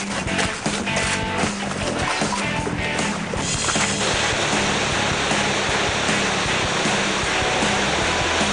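Ang Beng waterfall in Khao Soi Dao, Chanthaburi, running low in the dry season, a steady broadband rush of falling water that stays even and continuous throughout, fairly close with no voices over it.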